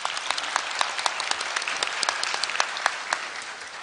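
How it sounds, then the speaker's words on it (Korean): Audience applause fills a hall at Korea University's 109th graduation ceremony, a dense, sustained roll of many hands clapping at a steady level with no talk. "박수로 환영해 주시기 바랍니다."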